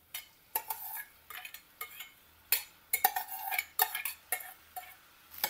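Rice stirred with ground masala in a pot for masale bhat, giving a string of short scraping clinks and knocks of a spoon against metal at an uneven rhythm, close and moderately loud, with no talk.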